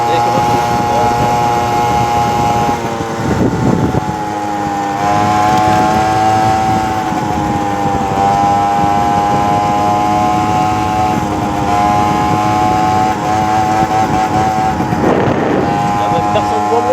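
A motorcycle cruising along at an easy steady pace, its engine droning with harmonic tones that rise and fall slightly as speed shifts, with constant wind rush over the rider throughout.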